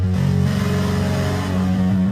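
The Super Mario Bros. jump sound, pitched down and run through heavy distortion, plays alone as a thick, gritty, sustained growl lasting about two seconds at steady loudness.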